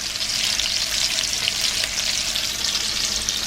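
Beef fillet searing in a hot pan, a loud, dense and continuous sizzle close by, crackling evenly throughout with no voices.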